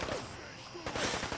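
Rapid gunfire in Fallout 4 while fighting super mutants at the Wilson Atomatoys factory: a burst of quick shots, then a louder second volley, fairly loud and close.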